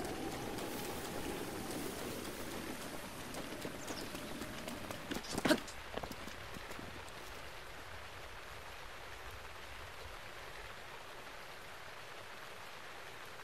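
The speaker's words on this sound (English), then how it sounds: "Of course it's raining, it's always raining." Steady, soft rain falls throughout in the Zelda: Breath of the Wild game, with a brief louder clattering burst near the middle, then continuing quiet patter.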